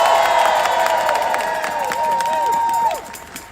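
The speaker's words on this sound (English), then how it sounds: "Please give them another round of applause." A crowd at an outdoor anti-Elon Musk protest at the Consumer Financial Protection Bureau in DC cheers and applauds loudly, with whoops and shouting ringing over steady clapping before it drops off suddenly near the end.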